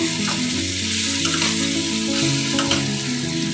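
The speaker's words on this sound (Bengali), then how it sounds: "সমস্ত ইনগ্রেডিয়েন্ট আমি একটু ভেজে নিচ্ছি।" Ingredients for a paneer lababdar paste fry in a pan on a gas stove, giving a steady close sizzle with occasional stirring scrapes, along with a faint sustained tone, and no talk.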